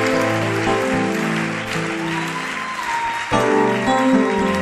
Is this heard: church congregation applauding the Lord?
yes